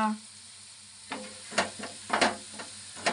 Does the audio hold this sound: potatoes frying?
yes